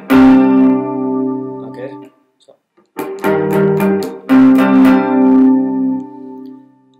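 Electric guitar playing the chord progression of a song, with loud sustained distorted chords struck, cut off, then restruck with a few quick strums; a voice speaks briefly at the start.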